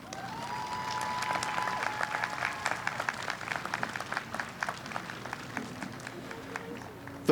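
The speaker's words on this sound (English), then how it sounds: "Let's give them a round of applause" Applause from an audience at a school graduation and promotion ceremony, a moderate crowd clapping steadily with individual claps audible, a faint voice or tone briefly under it near the start.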